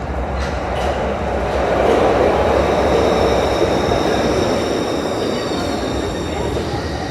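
A small subway train running, a steady loud rumble of wheels and motor with faint squealing tones, close and continuous throughout.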